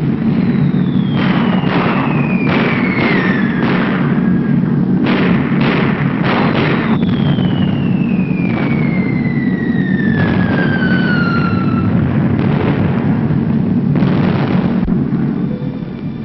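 Bombs dropped from B-17 Flying Fortress bombers in World War II explode as repeated heavy dull thuds over a constant loud roar of aircraft engines, with descending whistling tones of falling bombs.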